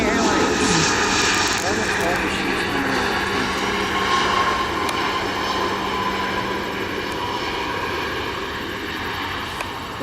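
An American Airlines airliner passes at night at Buffalo airport, its engines a loud, steady broadband roar that holds for the whole stretch, with faint voices nearby.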